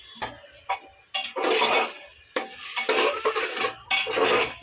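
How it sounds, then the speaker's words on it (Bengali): A spoon stirs sambar with toor dal and spices in a pot, giving repeated scraping strokes over a soft sizzle with clinks of metal cookware, close and fairly loud. "এটাকে ভালো করে নেড়ে নেব"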